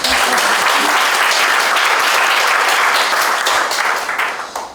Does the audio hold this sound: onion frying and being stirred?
no